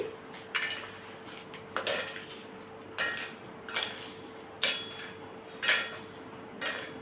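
Dried red chillies tossed into a steel mixer jar in a home kitchen, a series of light clinks and rattles arriving every second or so, close and fairly soft over a steady faint hum.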